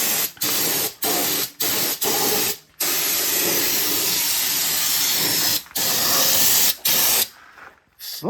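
Bursts of loud hissing spray as undercoating is sprayed onto a truck's underside on a lift, several short blasts followed by a long continuous spray, with brief pauses between.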